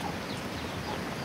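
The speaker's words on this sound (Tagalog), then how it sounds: "Daghan di kag manok diri no?" Chickens cluck softly in a farmyard, a continuous low scatter of hen calls under steady background noise, with no one speaking.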